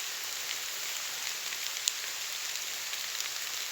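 Rain falls steadily as an even, hissing patter on surfaces, with one sharper drop standing out briefly and no voices.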